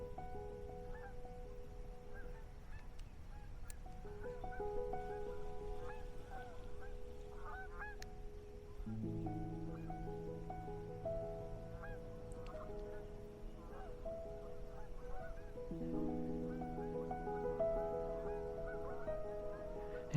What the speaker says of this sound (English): another gaggle of geese coming in to join their compatriots, leaving the smaller harbors to the larger bay.